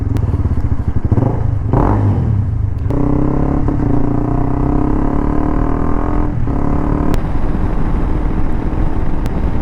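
Steady, loud motorcycle engine drone with low rumbling exhaust and a few clunks, heard while riding a modified Adventure 390 with a custom exhaust at cruising speed.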